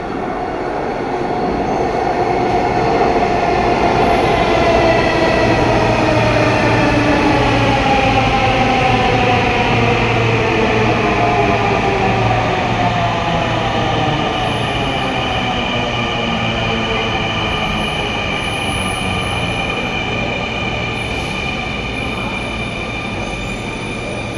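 A metro train runs past on an elevated line between Uttara and Motijheel, its steady rumble and rail noise loud and close for the whole stretch, with wheel squeal sweeping across it and no talk.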